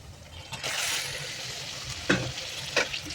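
Chicken going into a hot pan with onion and garlic for chicken kosha, a sudden loud hiss rising into steady sizzling, then two sharp stirring clacks close by.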